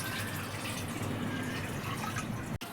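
Water from a submersible pump trickles slowly into a storage tank, a steady, close, continuous splashing flow that runs unbroken for almost the whole stretch, with a brief dropout near the end.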